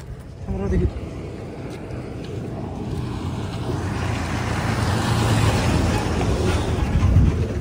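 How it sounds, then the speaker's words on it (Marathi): Heavy traffic rumbles along a highway near Sangli at night, a continuous low roar of passing vehicles that swells gradually, with a brief voice near the start. "वाहतूक जोरात आहे राव."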